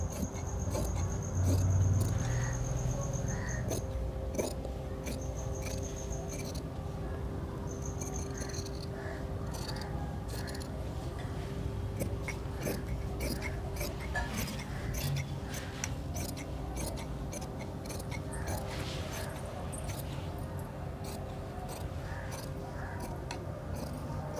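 Scissors cut through kurta fabric in a long run of quick, crisp snips at close range, steady and fairly loud with no talk.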